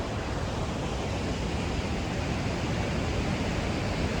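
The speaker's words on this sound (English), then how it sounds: "look at that, the water is pouring up there, and then comes up here." Waterfall on the Rhine, a steady, dense roar of water pouring down, loud and unbroken throughout with no voices.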